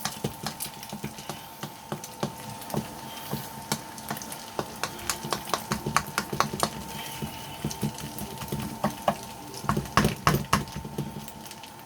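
Onions and broken-up egg fry in a hot pan for British Indian Restaurant–style egg fried rice, with a steady close sizzle broken by frequent sharp scrapes and clacks of the stirring utensil against the pan.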